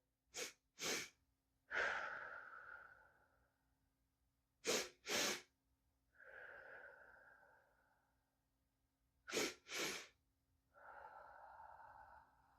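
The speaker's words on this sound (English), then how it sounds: "So that's where you take 2 short inhales through your nose, and then a long exhale through your mouth." Three rounds of a calming breath pattern: a pair of quick, sharp sniffs through the nose followed each time by a long, soft exhale through the mouth, close and clear against a quiet room.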